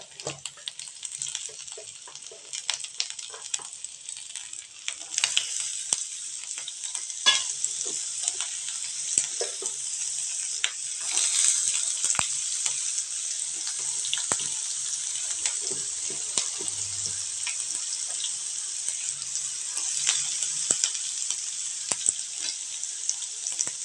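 Finely chopped onions fry in an oiled pan for a rice kara kozhukkattai dish, giving a continuous bright sizzle with scattered clicks and scrapes of stirring, steady and close throughout.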